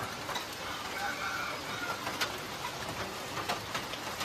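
Pigeons or doves coo softly on a farm near a layer building, low repeated calls partly masked by a steady hiss of rain and background noise.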